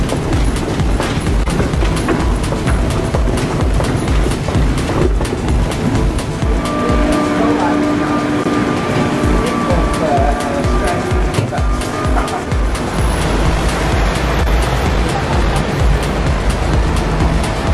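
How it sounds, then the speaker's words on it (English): Busy London street traffic rumbles on without pause, with engines idling and cars passing close by as a loud, dense wash of road noise. "Traffic everywhere"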